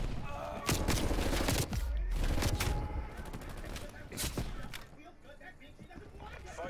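A Call of Duty Cold War strafe run rips across the map, rapid bursts of gunfire and explosions pounding for several seconds before fading, with someone talking excitedly over it.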